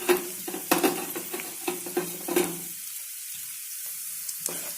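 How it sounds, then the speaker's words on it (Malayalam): Crushed garlic and ginger being stirred into softened onions in a frying pan, with a sizzle under intermittent scraping strokes of a spoon that come in quick clusters, then stop, leaving a faint sizzle with one more brief stir near the end. "വെളുത്തുള്ളി ഇഞ്ചിന്റെ ഒരു പച്ചമണം മാറുന്ന വരെ നന്നായിട്ട് ഇളക്കി കൊടുക്കാം."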